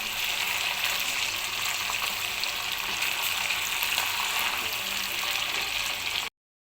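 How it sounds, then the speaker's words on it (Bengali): Chicken pieces frying in a pan for shahi chicken korma make a close, steady crackling sizzle that continues evenly for several seconds before cutting off abruptly. "মাংসকে ভেজে নেব।"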